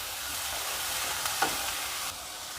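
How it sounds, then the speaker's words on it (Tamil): Onion and tomato sautéing in a pan for pumpkin sambar, a steady close hiss of frying with one faint stir or clink midway and no talking. "இப்போ இதை 1 நிமிஷம் வதக்கிக்கலாம்."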